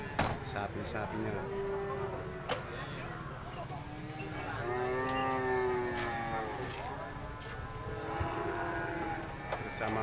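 Cattle at an Indonesian livestock farm, one giving a drawn-out, wavering moo midway through while people talk over low barnyard background noise.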